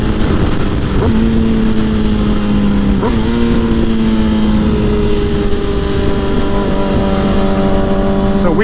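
Motorcycles ride toward the highway, engines droning loudly and close, with rising pitch as the bikes accelerate through several gear shifts in a steady, continuous run.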